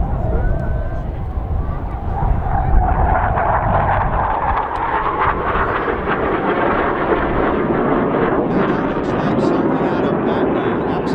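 A clipped-wing Spitfire Mark 16 passes at an airshow, a loud, dense, continuous roar that swells and shifts in tone over about eleven seconds.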